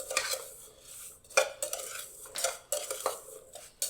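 A spoon scrapes and clinks against a bowl while chopped rhubarb is tossed with sugar and cornstarch, a string of uneven, fairly quiet stirring strokes with short pauses between them.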